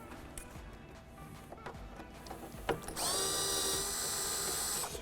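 A 7mm screw being backed out of the wheel well liner of a C8 Corvette, a few light tool clicks and taps, then a loud close whir of a power driver running steadily for the last two seconds.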